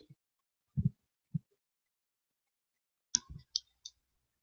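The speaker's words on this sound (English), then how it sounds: "So I'm going to cut some wire." Wire for polymer clay rings is snipped with cutters in a quiet room, a few sharp isolated clicks spread apart, then a small cluster of snips with a faint metallic ring.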